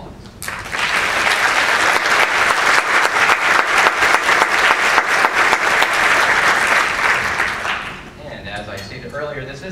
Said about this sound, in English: Would you please welcome your judges this morning with a round of applause.